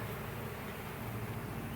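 A cloud of honeybees fills the air around a hive cut from a tree in Winter Haven, Florida, their buzzing a thick, unbroken drone up close.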